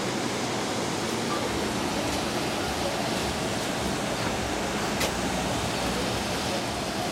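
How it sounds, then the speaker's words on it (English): Steady broadband rush of falling water from a waterfall pool at an ocean view resort in Nassau, a constant even wash with no breaks, close and moderately loud, with no voices. "Waterfall pool."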